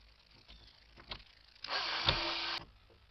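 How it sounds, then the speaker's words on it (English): A power drill whirs close by for about a second, driving a screw into a car door while mounting a speaker, after a few faint knocks and clicks. "We're going to drive them up with my drill."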